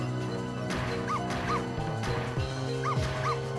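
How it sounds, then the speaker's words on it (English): Dog in Ghost Trick: Phantom Detective barking repeatedly in short yips and bow-wows over a steady game music bed, with a crash or smash mixed in near the start. "Does that make the dog bark even louder?"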